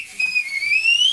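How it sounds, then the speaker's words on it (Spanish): A single high, thin whistle rises steadily in pitch for about a second, like a whistling firework shooting upward. "Va, dale los silbadores."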